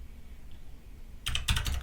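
Keys on a computer keyboard being typed to enter a command on a Raspberry Pi: quiet room tone, then a short burst of quick, close clicking keystrokes in the last half-second.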